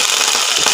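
Water poured into a hot pan of frying onions erupts in a loud, close burst of crackling, spitting sizzle that runs briefly without any voices.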